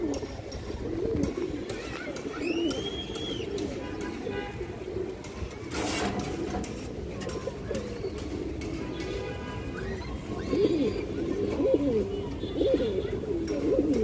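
A pair of Indian high flyer silver pigeons coos in soft, repeated low murmurs, joined by occasional chirps from other birds and a voice talking nearby.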